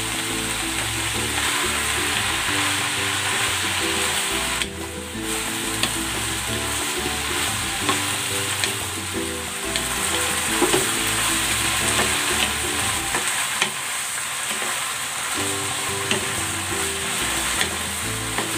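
Pechay and crumbled tofu stir-fried in a pan, a loud continuous sizzle with repeated scraping and stirring strokes of a utensil throughout, close up and without talk.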